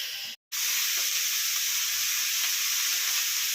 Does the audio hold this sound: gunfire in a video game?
no